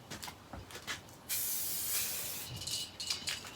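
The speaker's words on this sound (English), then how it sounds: "I'm going to turn this upside down, clear the nozzle inside" An aerosol spray paint can, held upside down to clear the nozzle during a car respray, gives a steady close hiss lasting a couple of seconds, with faint clicks and handling noise around it.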